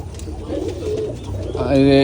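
Pigeons coo softly in a low, rolling burble, with a louder close coo swelling near the end over a busy background.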